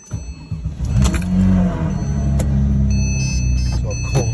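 A 2007 Porsche 911 GT3 engine cold-starting close by: a cranking whir, then a loud catch and steady high-idle rumble that holds, with brief voices over it.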